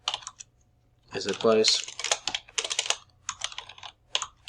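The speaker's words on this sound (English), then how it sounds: "Tired of typing" Fast typing on a computer keyboard with bursts of clattering keystrokes, close and fairly loud, while a voice talks over part of it.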